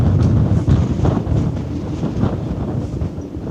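Strong wind roars and buffets close by on a ship's deck sailing through Norway's Romsdalsfjord, in low, rumbling gusts that rise and fall without a break.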